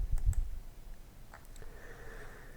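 A few soft mouse clicks land near the start, quick and close, followed by quiet faint ticks over a low room hush.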